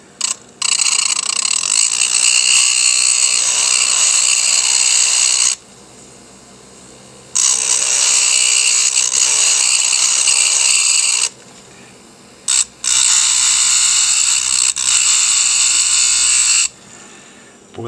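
Air scribe vibrating against a fossil crab during preparation, heard as a loud, harsh buzzing in three long bursts separated by short pauses.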